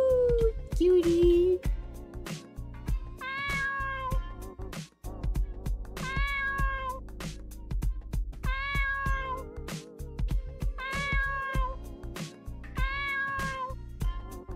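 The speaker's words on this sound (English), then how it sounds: "Look, there's a cat!" A cat in the video game Dave the Diver gives a series of loud, drawn-out, wavering meows, about six of them, over steady game music with a rhythmic beat.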